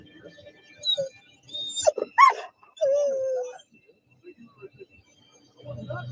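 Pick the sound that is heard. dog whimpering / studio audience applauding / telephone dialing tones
dog whimpering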